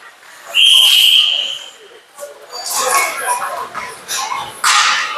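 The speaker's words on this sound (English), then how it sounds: "Iowa City whistled for an offsides there." A referee's whistle blows once, sharp and shrill, at an ice hockey game for an offside call, followed by arena crowd noise and commentary.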